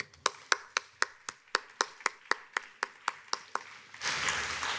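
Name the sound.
applause for Minister Qualtrough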